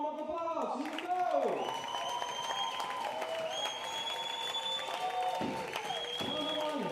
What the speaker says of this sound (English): Give a warm of applause.